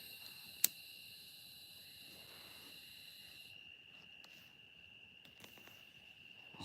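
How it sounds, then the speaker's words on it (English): Crickets and locusts chirp steadily in high, continuous trills through a quiet night, with a single sharp click near the start. "crickets, locusts, night creatures are all coming to life."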